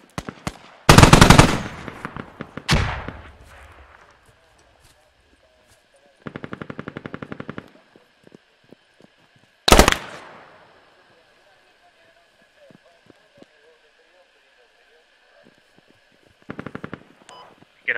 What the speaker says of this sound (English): Oh, good, they're firing.